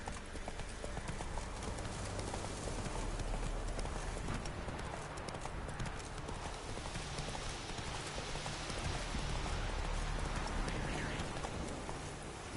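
Roach, a horse in The Witcher 3: Blood and Wine, gallops with steady, rapid clip-clop hoofbeats that run for the whole stretch over a constant soft wash like rain, and a voice comes through faintly now and then.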